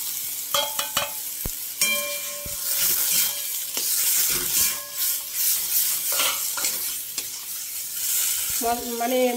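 Dried fish frying with garlic and spices in a pan, a steady sizzle broken by repeated spatula scrapes and clinks against the metal, close and fairly loud.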